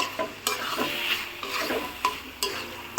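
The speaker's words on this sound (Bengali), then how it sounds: "পোরটা টাইট হয়ে আসার জন্য আমি আলুর মেশটা এখানে দিয়ে একটু নেড়ে চেড়ে নেব।" Mashed potato filling is stirred in a hot pan, the spoon scraping and thumping in a loose rhythm over a soft sizzle, with sharp utensil knocks against the pan every second or so.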